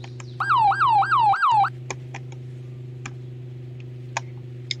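A Roblox police car's yelp siren gives a quick series of fast repeating whoops for about a second, then cuts out, followed by sparse soft ticks over a low hum.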